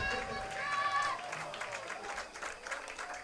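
A baseball crowd of about 1,765 at a Madison Mallards game against the Wausau Woodchucks cheers and claps loudly in a sustained roar, with a commentator's voice running underneath.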